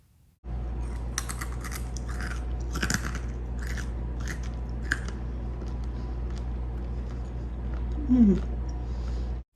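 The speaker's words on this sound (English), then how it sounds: "I am cracking myself up at the sound of my own chewing" Close, crisp crunching as someone chews crispy roasted spiced chickpeas, a run of bites early on and then quieter chewing over a low steady hum.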